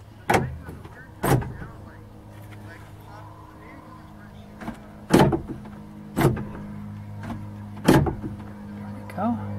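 Rear sliding door lock actuator on a 2007 Chrysler Town & Country after a repair, firing in about six short, sharp mechanical bursts spaced a second or so apart over a steady low hum, close up.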